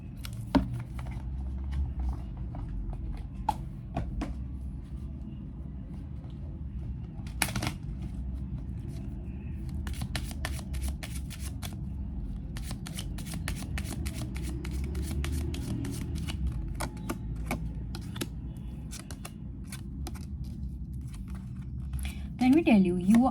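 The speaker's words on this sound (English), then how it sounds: "Let me pull a few more cards." Tarot cards riffle and slap in repeated close shuffling bursts of dense crisp flutter, running through a steady low background hum while a person talks.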